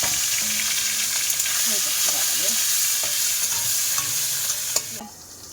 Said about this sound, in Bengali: এই মাছ কিন্তু খুব তেল ছিটকায়